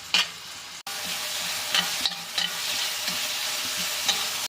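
Seasoning frying and sizzling in a pan before bitter gourd goes in for a South Indian pavakkai poriyal, a steady close crackle broken by several stirring scrapes and one brief pause.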